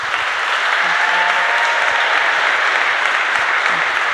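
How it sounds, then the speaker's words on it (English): An audience claps steadily after a talk, a dense even wash of applause that holds at full strength for the whole stretch. "So a big round of applause, please, for Drew Pham"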